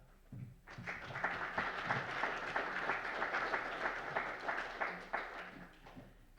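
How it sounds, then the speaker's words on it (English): An audience at a county conservation district forum gives the presenters a round of applause, with a soft, steady patter of clapping that rises after a brief pause, holds for several seconds and then thins out. "I would love to just give our presenters one more round of applause."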